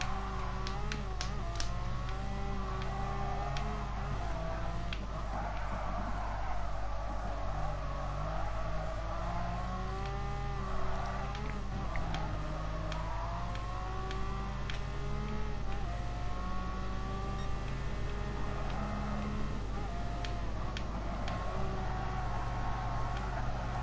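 A race car engine in Gran Turismo Sport drones steadily, its pitch rising and falling through gear changes over a continuous tonal hum, with no voices.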